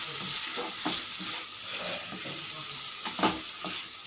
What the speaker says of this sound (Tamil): தக்காளி நல்லா வதங்கினதும் கட் பண்ணி வச்சுருக்கிற குடமிளகாயை சேர்த்துட்டு நல்லா கலந்துக்கலாங்க.